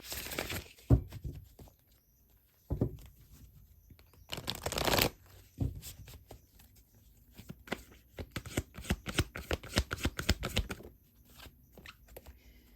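Tarot cards being shuffled by hand, with papery riffles and brisk bursts of flicking cards in uneven runs, close and quiet, with pauses between handfuls.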